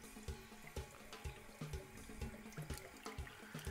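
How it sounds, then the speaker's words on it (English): Water running from a tap to rinse out an Epson printer waste ink tank, a continuous faint splashing stream with irregular sloshing pulses, no talking. "And all you do is basically just wash it out with water."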